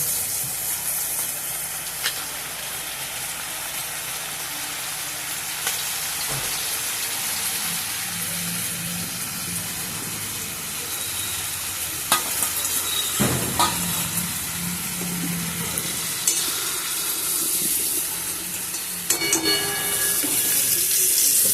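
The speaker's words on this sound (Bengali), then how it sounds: "গ্যাসটাকে কমিয়ে এটাকে আরেকটু ভালো করে ভেজে নেব।" Potatoes and green banana fry in a pan over lowered gas heat, giving a steady hiss and sizzle with occasional louder pops and clicks near the end, with no talking over it.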